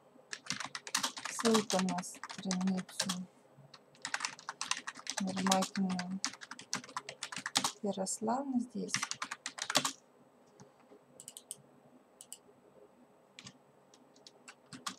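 Typing on a computer keyboard while building a VK chatbot, with bursts of quick, close key clicks that alternate with someone speaking Russian, then thin out into sparse taps near the end.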